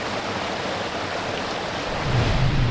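Flowing water from a confluence of forest streams and a small waterfall, a steady broadband rush that swells slightly louder near the end, with no voices.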